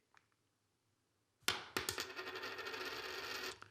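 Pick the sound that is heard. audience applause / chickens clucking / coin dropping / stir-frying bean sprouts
coin dropping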